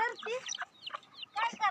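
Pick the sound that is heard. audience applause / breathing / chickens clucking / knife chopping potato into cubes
chickens clucking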